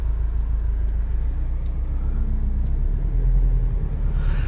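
A 2021 Subaru WRX STI Limited engine driving in sport sharp mode, a steady low rumble that swells slightly toward the end, heard from inside the cabin with no talk.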